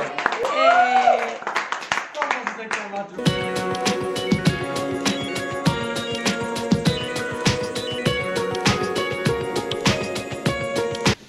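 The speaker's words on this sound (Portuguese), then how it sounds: "Para a menina Liliana, uma salva de palmas." Birthday party guests clapping for a girl named Liliana, rhythmic claps over music after a short sung opening, close and fairly loud throughout.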